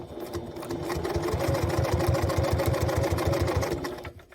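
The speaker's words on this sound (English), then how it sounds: "Now the Janome is a great machine. It never seems to have any issue sewing through plastic." A Janome sewing machine runs a second row of stitching through plastic, right over the first row, with a fast, steady mechanical chatter of needle strokes that stays close and even for about four seconds, then stops.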